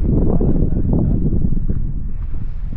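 Strong wind at a South Australian beach buffets the microphone in a steady low roar, constant and close, with a faint rustle underneath.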